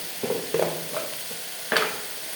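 Chilli, sambar and turmeric powder sautéing in a pan, heard as a few soft stirring scrapes and faint sizzles spaced across a couple of seconds, with a louder scrape near the end.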